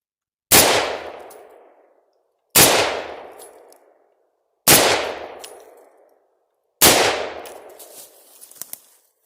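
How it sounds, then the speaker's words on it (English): Four loud M14 (M1A) rifle shots fired at a target outdoors, evenly spaced about two seconds apart, each a sharp crack trailing into a long echoing decay. "I'm going to shoot the target."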